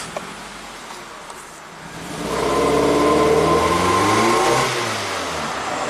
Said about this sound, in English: Actually revved all the way through with cylinder 4 disconnected